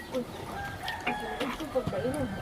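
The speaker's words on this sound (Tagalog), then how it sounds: "Katong gagmay nga manok te." A rooster crows among clucking chickens in a farmyard, short nasal calls and warbling clucks rising and falling close by over a brief stretch, with faint background murmur.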